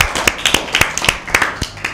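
Audience clapping for team A at a Lent season Bible quiz: a small group's irregular hand claps, close and fairly loud, a brief scattered burst.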